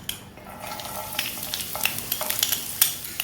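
Chopped garlic sizzling in hot oil, crackling and popping steadily with light stirring, close up, with no voices.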